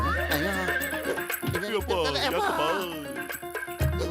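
A robot horse in a Motu Patlu cartoon lets out a drawn-out, wavering neigh, loud and close, over a busy soundtrack of music and effects, with some talking mixed in.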